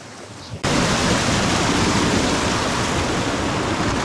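A Black Forest waterfall roars as a steady, dense rush of broadband water noise that begins abruptly and then holds constant, loud and close, with no talk.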